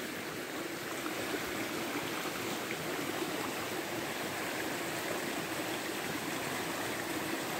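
A fast-running stream swollen after heavy overnight rain rushes with a steady, dense, broadband roar that stays constant and moderately close, with no voices.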